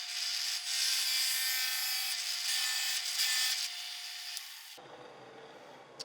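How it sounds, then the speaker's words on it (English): Drill press boring a wooden plug with a plug cutter: a steady, fairly loud grinding whir that runs several seconds, then drops to a quieter mechanical hum as the cut finishes. "put these in over on the drill press and well, drill us out a plug"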